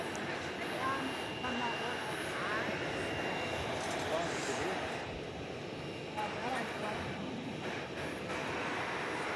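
An MD-11 jet aircraft at DFW airport at night, a steady distant engine roar rumbling broadly and evenly across the whole stretch.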